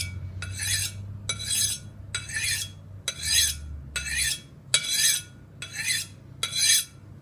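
Knife edge honed on a sharpening steel at a steady angle: eight crisp metallic swipes in even rhythm, close and clear, with a low background hum.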